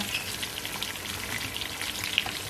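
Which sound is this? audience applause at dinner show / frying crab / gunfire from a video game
frying crab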